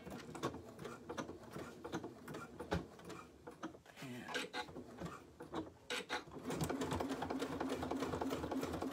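A sewing machine with a walking foot topstitches through waxed canvas and cork, its needle making a fast, steady patter close by that grows louder and continuous toward the end, while a person talks.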